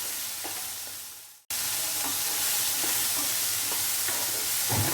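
Bell peppers (capsicum) sizzling and frying in a pan for a chilli egg dish, a bright continuous hiss after a brief cut, with occasional stirring scrapes and spatula taps close by.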